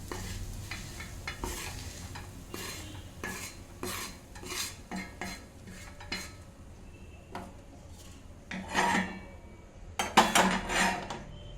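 Finished okra fry with gram flour is scraped out of a pan into a bowl: repeated metal spoon scrapes and clinks against cookware, rhythmic and close, over a faint lingering sizzle.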